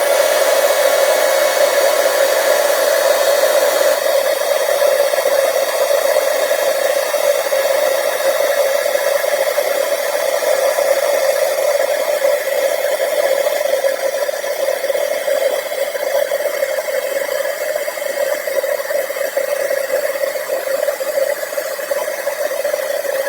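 A heat tool blowing over white embossing powder to melt it, a loud, steady hair-dryer-like whir with a constant droning tone held close and unchanging, with no talking.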